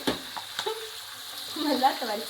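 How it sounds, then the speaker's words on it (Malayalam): Chicken frying in a home kitchen pan, a steady close hiss with a few sharp spattering pops near the start and a faint tonal murmur toward the end. "ചിക്കൻ പൊരിച്ച തെറിച്ച്"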